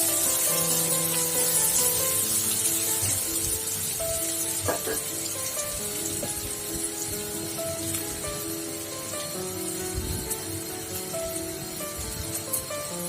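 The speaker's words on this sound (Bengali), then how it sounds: "পেঁয়াজটাও হালকাভাবে ভেজে নেব।" Onions fry lightly in a pan, a soft, continuous sizzle and crackle with occasional faint clinks, heard fairly quietly throughout.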